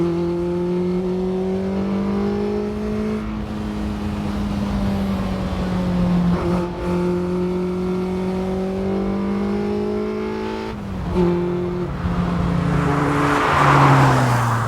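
A Renault Sport Spider's engine pulls hard through the gears, its note climbing steadily then dropping at each shift, heard loud from inside the open cockpit with wind rush rising toward the end.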